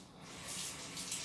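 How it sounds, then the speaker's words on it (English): Tap water runs steadily into a sink as a rex begonia leaf is rinsed under it, a soft continuous hiss and splash with no talking. "Now I'm going to just rinse this under the water."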